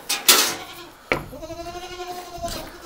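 A goat bleats nearby on a farm in a long, wavering cry after a couple of sharp knocks, set against faint background rustling.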